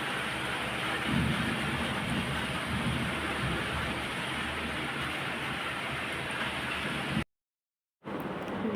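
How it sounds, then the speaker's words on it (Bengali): Heavy rain pours steadily in a dense, even roar with low rumbling thunder mixed in, recorded close and without talk, before a brief silent gap near the end. "জোরেই শুরু হয়ে গেছে বৃষ্টি।"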